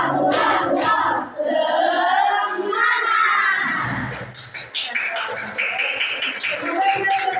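A class of schoolchildren performs the rhythmic 'tepuk semangat' clapping chant, quick bursts of claps mixed with shouted group voices, loud and close, following a spoken lead-in.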